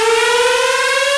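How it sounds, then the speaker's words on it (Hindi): Breaking-news siren sound effect: a loud, steady wailing electronic siren tone with strong harmonics, slightly rising in pitch, heard alone and close. "एक और ब्रेकिंग न्यूज सायरन के साथ।"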